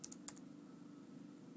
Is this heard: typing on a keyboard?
yes